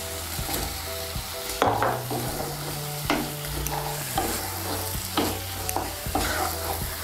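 Fried potatoes are stirred into spice masala in a pan, with repeated scraping strokes of a spoon against the pan over a continuous sizzle, all close and loud, with no talking.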